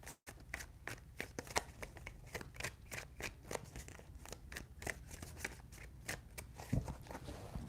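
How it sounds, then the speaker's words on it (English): Tarot cards shuffled by hand in three rounds, a quick run of crisp riffling slaps and paper flutters close up with no voice. "3 shuffles."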